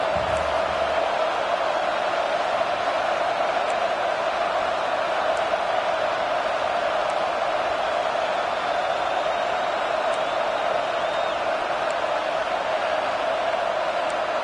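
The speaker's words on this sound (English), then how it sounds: "the crowd coming to life here, trying to help this defense down in the red zone" A steady, dense roar from a stadium crowd at a college football game rises as the defense holds in the red zone, a constant wash of distant cheering with no breaks.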